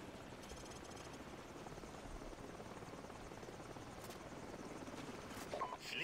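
A helicopter in the video game Call of Duty 4: Modern Warfare thrums steadily with a dense, constant rotor beat, close and loud throughout, with a few faint clicks near the end.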